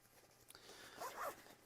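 A zipper on a Rab jacket's front pocket is pulled open in one quick, close rasping run, fairly quiet against a soft room background.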